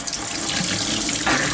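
A kitchen tap runs steadily at full flow into a sink, filling drinking water during a strong-candy tasting challenge; close, continuous splashing with no talk over it.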